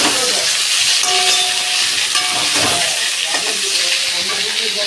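A boiled vegetable is tipped into a hot oiled kadai and sizzles loudly, a bright, steady hissing fry with some stirring scrapes mixed in.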